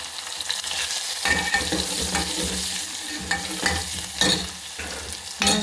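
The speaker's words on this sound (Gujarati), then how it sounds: "પછી એમાં લીમડાના પાન નાખીશું, ડુંગળી નાખીશું, અને એને બરાબર હલાવીશું." Steady sizzle of onion and curry leaves frying in a pan, with a spoon stirring and scraping through it in irregular strokes, close and continuous with no talk.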